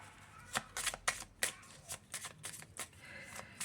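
Oracle cards being shuffled by hand in a quiet room, a rapid run of close, crisp riffling and flicking bursts with short pauses between them.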